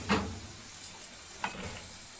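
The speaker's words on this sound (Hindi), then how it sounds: "अब इसकी भुनाई करेंगे।" Mutton liver roasts in oil in a pan, a soft sizzle with a few scraping stir strokes over a low, quiet background.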